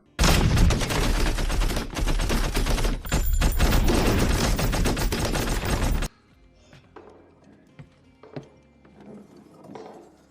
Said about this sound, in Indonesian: Sial bagi si Boncel, dia tewas tertembak saat melindungi April.